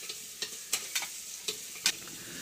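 Shallots fry with mustard seeds in a pan under a low, steady sizzle, broken by about six sharp scraping strokes of a spoon stirring at uneven intervals.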